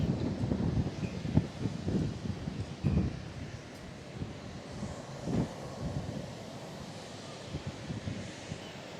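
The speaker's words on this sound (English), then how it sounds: "you can tell it's a little breezy today" Wind blows on a breezy day beside a lake with a small fountain, a fluctuating rush of gusts and rustling that swells and fades near the microphone.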